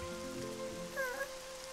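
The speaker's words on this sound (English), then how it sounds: "But it's raining." Steady rain patters throughout a short scene from a Tayo animated cartoon, a soft continuous wash under a faint tonal music line, with no talking.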